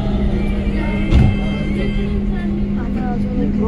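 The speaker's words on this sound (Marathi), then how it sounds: "ही बघा दुसरी मेट्रो चालली आहे, डाऊनला चालली आहे" A Pune metro train runs along the opposite track, heard from inside a moving metro carriage as a steady low rumble with a brief louder swell partway through.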